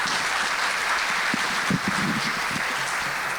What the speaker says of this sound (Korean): 특별히 더 큰 박수 아시죠?